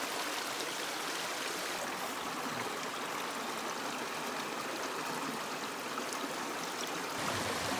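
A small creek runs over rocks with a continuous, even rush and gentle gurgle, steady and moderately close, no voices over the water.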